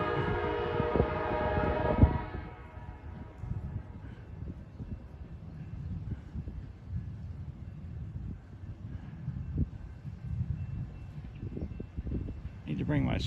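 An Amtrak train near Granite City, Illinois, sounds its horn in a sustained chord at first, then rolls past with a fainter rumbling clatter and wind buffeting the microphone.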